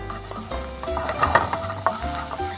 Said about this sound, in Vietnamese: Rồi anh sẽ cho gừng băm vào xào nha.